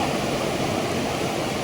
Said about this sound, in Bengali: এখানে দুটো নদী এক হয়েছে,